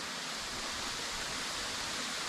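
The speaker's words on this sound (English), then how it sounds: "Not the hugest waterfall" A small waterfall on a creek gives off a steady, dense broadband rush of falling water, continuous and fairly close, with no voices.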